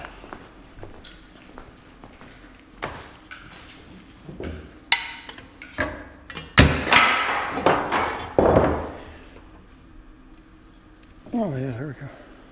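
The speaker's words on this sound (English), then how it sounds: "we're gonna beat this back into round" A metal chimney pipe is beaten back into round with a series of irregular, sharp hammer strikes, clustering loudly midway, followed by a brief voice near the end.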